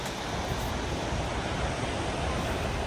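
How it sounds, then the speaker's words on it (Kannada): Water pouring down at Gaganachukki falls, heard up close as a dense, continuous roar of broadband rushing noise with no breaks. "ಇಲ್ಲಿ ನೋಡ್ತಾ ಇರ್ಬೋದು ನೋಡಿ, ಎಷ್ಟು ಹತ್ತಿರದಿಂದ ನೀರು ಬೀಳೋದನ್ನು ನೋಡ್ಬೋದು"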